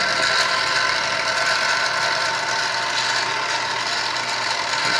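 A milling machine spindle running at about 1200 RPM makes a steady, loud mechanical whir with a constant gear-like drone and slight rattle, unbroken and without talk.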